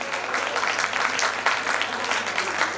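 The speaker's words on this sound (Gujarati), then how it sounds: "તો આપણે સૌ તાળીઓથી વધાવશું" An audience at a batch reunion honouring ceremony in Bhuj claps together in sustained, dense applause that stays steady and fairly loud throughout.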